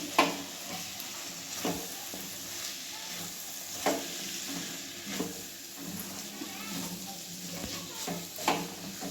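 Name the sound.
stirring cabbage sabzi with crushed peanuts in a pan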